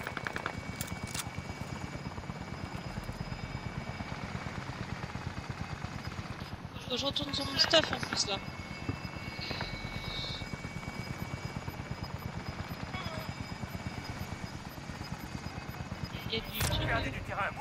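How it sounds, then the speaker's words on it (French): A drone flies overhead in a video game shooter, a steady rotor-like hum running throughout beneath scattered gunfire bursts, with a player talking over it. "Le drone commence son survol."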